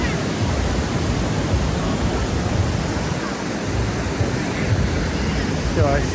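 Steady breezy wind rushing at the seaside in Bali, loud and continuous with a broadband wash like surf, holding an even level throughout.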